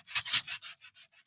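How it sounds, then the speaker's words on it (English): Sandpaper rubbed along the paper edge of a vintage Halloween junk journal cover to distress and round it, a close, dry scratchy scraping in quick repeated strokes that start strong and thin out, with no talking. "we're just distressing up and sanding up, rounding over that edge"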